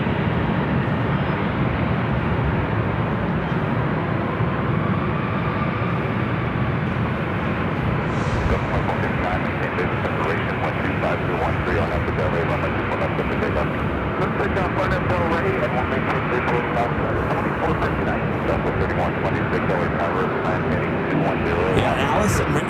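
A Norse Dreamliner airliner takes off at LAX, sending out a steady, broad jet roar that holds throughout under continuous background noise.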